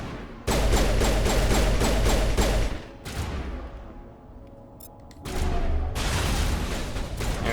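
Rapid bursts of sci-fi gunfire from the video game Mass Effect: a loud, dense fusillade for about two and a half seconds, a lull with fainter shots, then another sustained volley.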